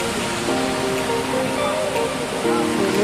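Water from the Khoiyachora waterfall stream in Sitakunda rushes steadily nearby, a dense, even wash of flowing water with faint tonal hums running through it.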